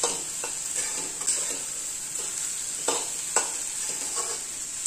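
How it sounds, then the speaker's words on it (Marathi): Moong bhaji, a Maharashtrian mugachi bhaji, stir-fried on high flame, giving a steady bright sizzle with a few sharper scrapes of the spoon as it is tossed in the pan. "सिंगल भाजी मोठा गॅस करायचा परत एकदा चांगली परतून घ्यायची"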